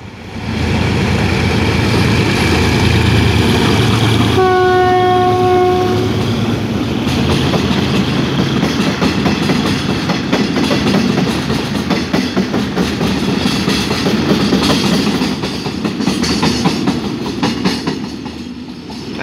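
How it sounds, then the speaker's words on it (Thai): A GEK 4025 diesel locomotive hauling a freight train sounds a brief steady horn blast amid a loud, continuous rumble and rhythmic clatter of wheels on rails, passing very close. "เป็นรถสินค้าไม่ทราบว่าขบวนอะไรนะเป็น GK นะครับ4025"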